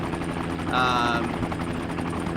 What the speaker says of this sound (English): nice little light helicopter, just kind of an interesting enemy vehicle